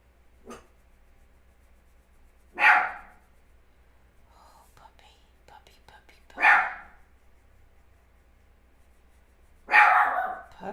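A dog barks three times in sharp, separate bursts a few seconds apart, close and loud against a quiet room, with a smaller yelp at the start and faint rustling between.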